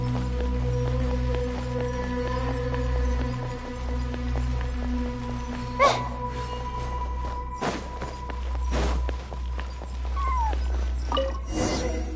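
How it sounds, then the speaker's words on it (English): A cat cries in the Genshin Impact video game amid a steady low ambient hum, with repeated meows and drawn-out wails plus a few sharp clicks and steps. "And so, I followed the cat's cries to find my way out."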